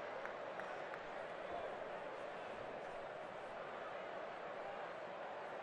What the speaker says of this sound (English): The crowd's still abuzz after Yovani Gallardo hit his solo home run.